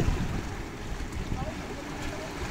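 Fairly strong sea waves wash against the shore at a fishing spot used for shore casting, a steady broadband rush with wind buffeting the microphone, heard close and without talk.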